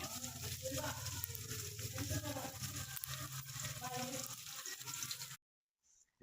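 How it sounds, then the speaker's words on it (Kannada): Chopped green chillies, ginger and garlic fry in hot oil for vegetable fried rice, giving a dense, continuous sizzle with scattered crackles before it cuts off abruptly into near silence. "ಇವಾಗ ಇದನ್ನು ರಾಸ್ ಮೇಲೆ ಹೋಗೋವರೆಗೂ ಫ್ರೈ ಮಾಡ್ಕೊಳ್ಳೋಣ"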